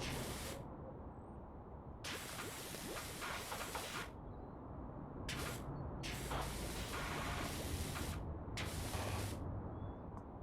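Turbo-nozzle pressure washer spray in PowerWash Simulator, a steady hissing blast broken into bursts of varying length over a constant low background rumble, close and fairly loud with no talk.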